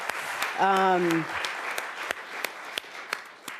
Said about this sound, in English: Can we give some snaps or claps to that?